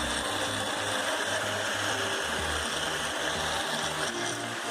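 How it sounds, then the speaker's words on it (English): A drill scrubs rust and paint off a 2013 Crompton Greaves Trans Air 9 exhaust fan, making a loud, continuous mechanical whir with rhythmic pulsing as its speed varies. "So I turn on my drill, and you can see the variation of the speed now."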